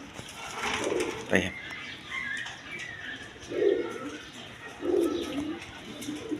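A pair of yellow Rajgolla pigeons, nesting on two eggs in a clay pot, give several low rolling coos in separate bursts, close by, with someone speaking briefly and faint rustling between calls.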